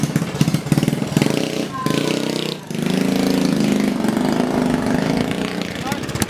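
A motorcycle engine runs steadily with a mid-pitched, throbbing drone, fairly close, under people talking throughout.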